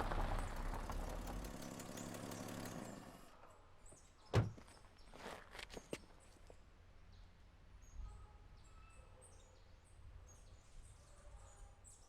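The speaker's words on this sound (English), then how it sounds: "Car engines roaring to life and lieutenants barking orders to the drivers." Car engines start up at a cartel residence in the Cartel Tycoon video game: a loud, dense rumble for about three seconds, then quieter idling with a few sharp door-like thunks and scattered knocks, and no talk.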